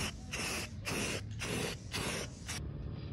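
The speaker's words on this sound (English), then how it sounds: "we're going to spray the register cover gold like that" An aerosol can sprays gold paint onto a metal register cover and a tin in a series of short hissing bursts with brief pauses between them, close up and fairly quiet.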